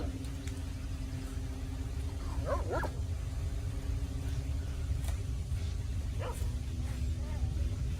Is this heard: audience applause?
no